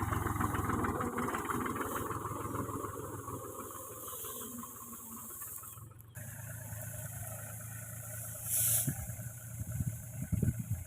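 A tractor engine idles steadily while pulling a net over a mustard field, a low continuous rumble with faint mechanical rattling and a few brief knocks toward the end, moderately close.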